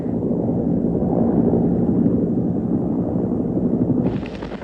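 A Cobra attack helicopter, built for Vietnam-era air attacks, running at Fort Carson Army base in Colorado: a loud, continuous low rotor throb that changes character near the end.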